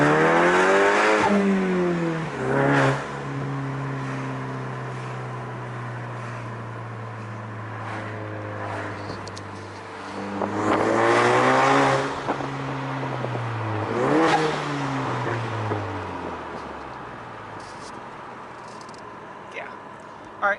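Turbocharged car with a catless downpipe revs repeatedly, engine notes rising and falling in several pulls with turbo flutter between them, heard from inside the car with the windows down, idling between revs.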